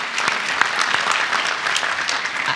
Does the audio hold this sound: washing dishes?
no